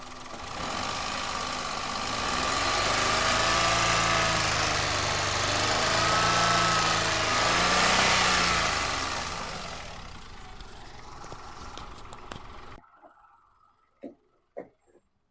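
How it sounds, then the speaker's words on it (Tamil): A 2017 Hyundai Eon engine idles close by with a steady, even hum, then cuts to near silence broken by a few faint clicks. "வண்டியோட இன்ஜின் நாய்ஸ் நான் உங்களுக்கு மைக்கை பக்கத்தில் வச்சு காட்டுறேன் பாருங்கள்"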